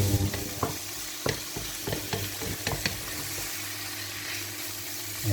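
Sauerkraut sizzles and caramelizes in a pan, a steady soft frying hiss under occasional scrapes and clacks of stirring, close and fairly quiet.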